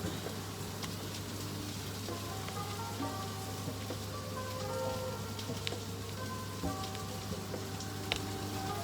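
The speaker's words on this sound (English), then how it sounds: "So if you hear frying in the background, I'm just hand frying my salmon for dinner" Faint, steady sizzling and crackling of salmon frying in a pan, with a low background hum and occasional soft clicks.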